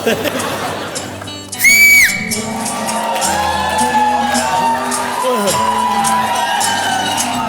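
A studio audience on the Dus Ka Dum game show lets out a sharp, piercing whistle, then keeps cheering, whooping and laughing loudly.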